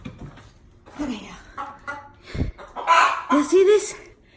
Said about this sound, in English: Chasing a fucking chicken.